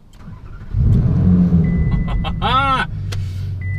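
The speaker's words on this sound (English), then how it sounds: "Engine on." Ferrari engine starting up, a low loud rumble that holds steady for a few seconds with a brief rising whine partway through, heard close by.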